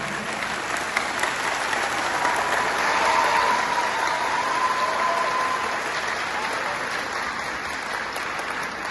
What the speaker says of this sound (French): Votre applaudissement m'invite à le redire